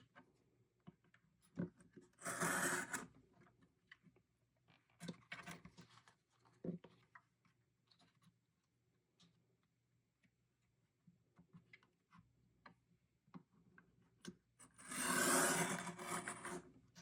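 A craft blade slicing through a paper frame on a WRMK punch board, with two longer scraping cuts and scattered light taps and rubs in a quiet room.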